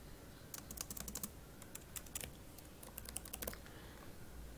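Rapid bursts of typing on a computer keyboard while writing Java code, clicking keys in quick irregular runs with short pauses, close and fairly quiet.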